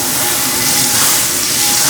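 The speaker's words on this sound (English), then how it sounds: "We're gonna hit it up with a couple tablespoons of unsalted butter." Unsalted butter sizzling in a hot, smoking pan, a loud continuous hiss with no break for its short length.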